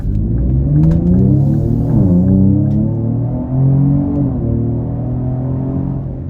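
A deep, throaty exhaust rumble from a Ford Explorer ST with a Thermal R&D exhaust, idling and gently revving, heard from outside, loud and close, rising and settling in pitch with no talking.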